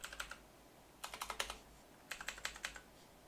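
Typing on a computer keyboard in quick clusters of crisp, close key clicks, three short bursts separated by brief pauses, with no talking.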